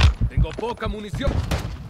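Gunfire in Call of Duty: Modern Warfare, playing a Fennec submachine gun, comes as rapid, loud bursts of shots and thumps mixed closely with a player's excited speech.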